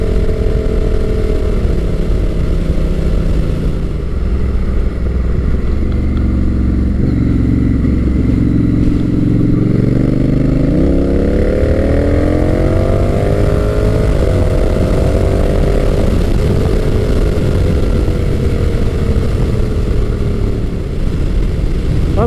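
Honda Rebel 1100 T DCT motorcycle accelerating hard on the road, a loud steady engine drone rising in pitch through automatic gear changes, heard close amid constant wind roar with no talk.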